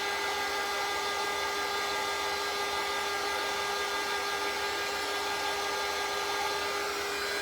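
A hair dryer blows steadily and close to dry paint on a nutcracker craft, giving a continuous loud whir with a constant pitch and no break.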